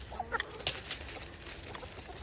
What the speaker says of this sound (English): you get to watch all my chickens as I dump food to them